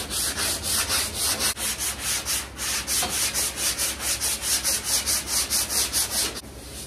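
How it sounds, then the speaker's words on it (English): A sanding block worked by hand over the body of a 1970 Dodge Challenger makes a steady, rhythmic rasp, about three strokes a second, close and loud, with no one talking. "keep in mind there's absolutely nothing fast about sanding this stuff down."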